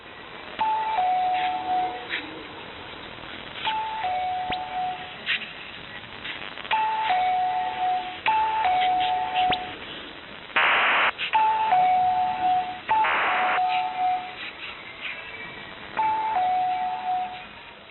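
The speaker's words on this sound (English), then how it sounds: "this time transmissions featured a doorbell in place of the trumpet or bugle call" A two-tone ding-dong doorbell chime repeats about ten times over a noisy, band-limited shortwave radio signal, with static hiss throughout and two brief bursts of digital data noise.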